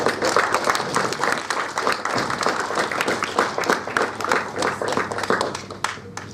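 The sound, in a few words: applause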